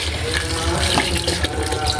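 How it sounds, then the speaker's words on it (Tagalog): Water runs steadily and loudly into a pot for Saudi addas lentil soup, a continuous close gushing pour with no talk over it. "At lalagyan natin ng tubig."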